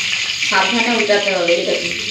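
Rohu and amodi fish fry in hot oil in a pan, a steady broadband sizzle throughout, with someone speaking over it for most of the clip.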